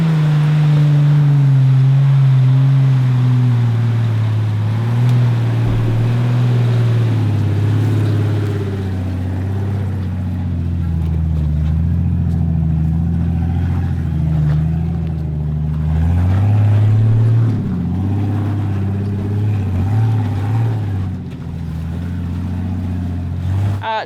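A Jeep crawling up a rocky ledge at Choccolocco, its engine droning loud and steady, with revs rising and dipping as it works for traction over the rocks.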